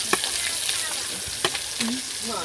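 Onion and green chili frying in oil in a home kitchen, a dense, even sizzle with a few sharp spatters and faint tonal chirps in the background.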